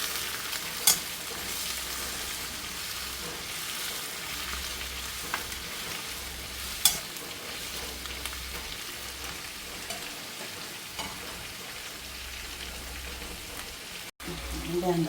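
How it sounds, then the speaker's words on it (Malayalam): Chicken pieces frying in a pan for butter chicken, a steady soft sizzle with occasional stirring scrapes running throughout, moderately quiet and close, with no voices. "ചിക്കനും മൊരിഞ്ഞ് വരുന്നുണ്ട്"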